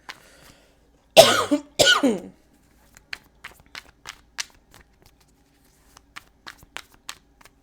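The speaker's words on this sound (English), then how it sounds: "I'm coughing" A person gives two loud, harsh coughs close by, followed by scattered faint clicks and small handling noises in an otherwise quiet room.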